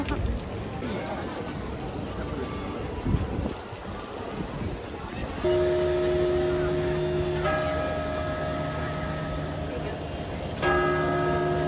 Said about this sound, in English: I was trying to take a video because these bells were ringing